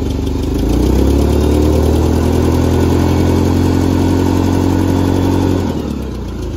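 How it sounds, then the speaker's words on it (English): Clark forklift engine idling, a loud, steady low rumble close by that holds evenly for several seconds before dropping slightly near the end, with no voices. "Clark forklift, ready to use."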